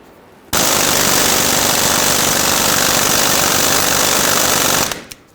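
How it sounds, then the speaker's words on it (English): A pneumatic air hammer rattles loudly on a rear suspension knuckle of a 2003-2008 Subaru Forester in one continuous burst of rapid hammering for about four seconds, then stops abruptly. "I'll just give this a tap with the air hammer"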